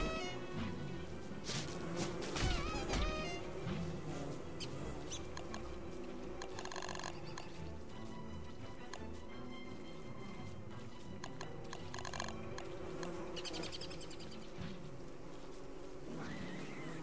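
Bees buzzing around an attacked beehive in the Don't Starve video game, a busy droning hum with scattered clicks and hits from the game, steady throughout and fairly close.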